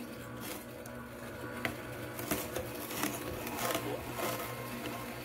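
A Jocuu juicer runs while juicing celery, giving a steady close mechanical whir with a busy, pattering grind and small squishy crunches throughout.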